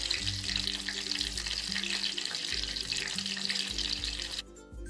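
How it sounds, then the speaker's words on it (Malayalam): Green chili bajji dipped in batter deep-fries in hot oil, producing a steady bubbling sizzle close by, with low pulsing hum underneath, until the sound cuts off abruptly at the end. "നേരത്തെ ഉണ്ടാക്കി വെച്ച മാവിൽ മുക്കി പൊരിക്കുക"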